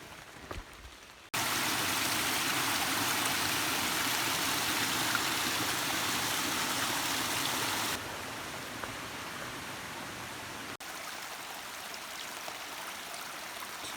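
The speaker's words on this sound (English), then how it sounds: "Two streams converged" Two mountain streams meet in a backcountry area along the Long Trail, giving a steady broadband rush of flowing water that stays loud and even throughout, dropping slightly in level partway through.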